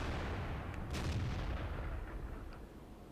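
A Russian 122mm tank gun fires in the World of Tanks video game, heard as a deep, rumbling boom with a long low decay that fades across a few seconds, with no voices over it.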